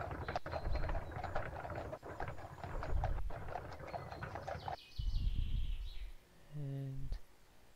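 Horse clip-clop sound from a video game, played while the game is paused with a small pony selected, heard as a steady run of hoofbeats with light chirpy tones near the end.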